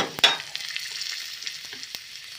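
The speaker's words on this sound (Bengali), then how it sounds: "রসুনটা একটু ভাজা ভাজা হয়েছে" Garlic frying in a pan for a Bengali dish of pumpkin leaves with prawns, a soft, close sizzle with a sharp spatula scrape near the start and light stirring clicks after.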